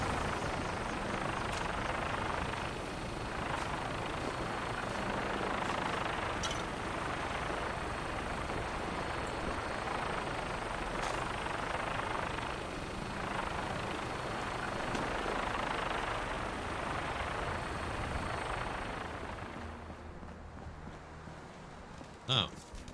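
A vertibird aircraft flies in the video game Fallout 4, giving a steady whooshing rotor-like drone with faint rhythmic pulses that stays fairly loud throughout, then thins out near the end, with a voice talking over it.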